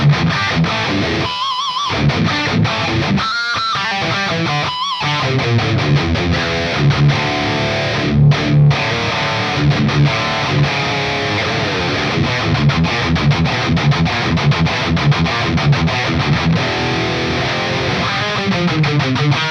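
A Les Paul type electric guitar with a mahogany body, maple top and EMG active pickups plays heavy, distorted rock and metal riffs through Softube Amp Room, loud and rhythmic with short choppy breaks, no voice over it.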